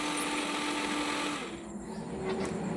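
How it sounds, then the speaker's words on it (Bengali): Electric grinder blending pineapple for a village-style Bengali drink, a loud close motor whir that runs steadily, dips briefly midway, then picks back up. "তারপর গ্যারেন্ডার আর মেশিনে দিয়ে দিলাম"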